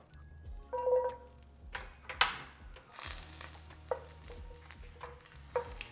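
Garlic and ginger fry in a pan with a low, continuous sizzle, broken by clinks and scrapes of stirring and a few sharp clatters, with no talking.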